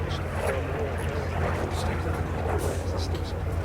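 Hawker Fury FB.II piston-engined fighter at the Sywell Airshow 2024, its engine a steady distant drone while it pulls a tight high-G turn and rolls out onto finals, heard beneath continuous commentary over a loudspeaker.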